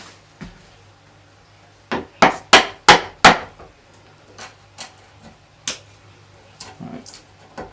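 Chisel chopping a stop cut into pallet wood: a burst of five sharp, close mallet strikes in quick succession, then a few scattered lighter taps and knocks with quiet gaps between them.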